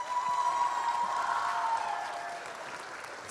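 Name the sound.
audience applause after school performance of Oz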